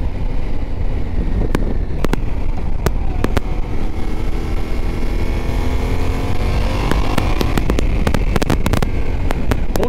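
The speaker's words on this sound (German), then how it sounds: "Motor zieht schön durch." A Yamaha Ténéré 700 World Raid motorcycle pulls hard under acceleration, its engine note rising steadily with sweeping harmonics through continuous wind rush and a few sharp clicks, loud and close throughout.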